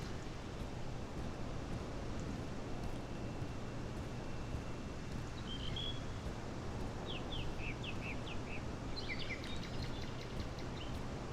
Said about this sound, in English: Hear the birds and everything.